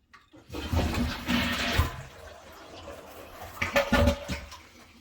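A toilet is flushed while its water valve is being shut off during a BioBidet Slim 3 seat replacement, giving a close rushing gush of water that fades into a trickle and then surges again.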